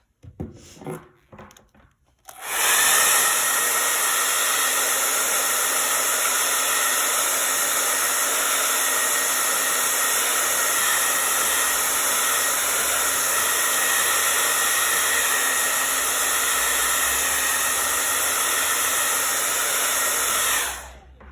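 A hair dryer blows steadily to dry freshly applied paint on a craft piece, starting with a few handling knocks, then running as a loud, continuous whooshing roar for about eighteen seconds before cutting off.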